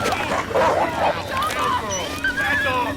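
A dog attacks and barks in a scuffle, snarling and yelping in loud chaotic bursts mixed with shouting and agitated voices throughout.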